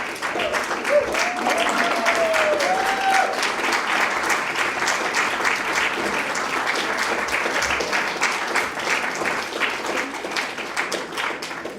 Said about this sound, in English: Give me that clap.